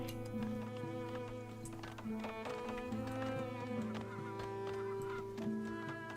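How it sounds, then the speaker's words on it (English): Geese in Farthest Frontier honk repeatedly while flying overhead, a faint, steady series of nasal calls over a soft, continuous game ambience. "See the geese that are flying?"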